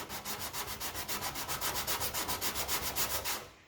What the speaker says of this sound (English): I'm not sanding too deep here